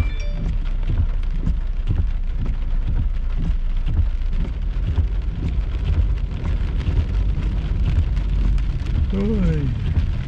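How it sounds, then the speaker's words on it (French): Steady heavy rain falls throughout a thunderstorm at Saint-Jean, a dense, continuous hiss with patters on a surface, loud and close, while a brief voice-like tone rises near the end. "Pluie à Saint-Jean."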